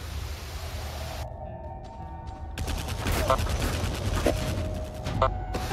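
Video-game gunfire while players storm a tower: rapid bursts of shots and loud booming fire over busy game noise, rising in intensity midway.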